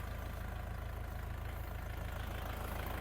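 A Scout 404 tractor engine with a 1.4 m rotary tiller runs steadily in low second gear at 1400 rpm, a low, throbbing drone, loud and close, with no break for the whole stretch.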